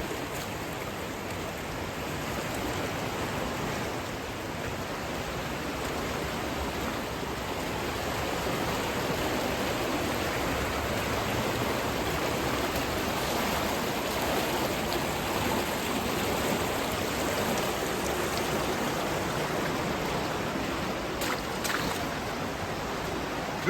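A creek rushes below a waterfall in a steady, full, unbroken wash of flowing water, close and constant throughout with no voices.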